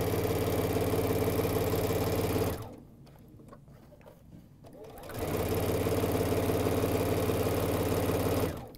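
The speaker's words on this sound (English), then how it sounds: "Then I want to just sew my quarter inch seam all along." A sewing machine stitches a quarter-inch seam on a quilt, a loud, steady mechanical whir that pauses briefly for about two seconds, leaving quiet fabric rustles, then resumes at the same pace.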